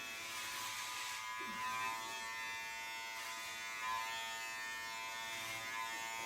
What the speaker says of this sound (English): we'll be going in with our clipper and coming away